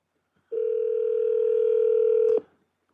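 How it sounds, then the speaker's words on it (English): An Alexa smart speaker places a phone call, giving one steady electronic dialing tone that holds clearly for about two seconds and then cuts off, with no other sound around it. "Let's give him a call right now."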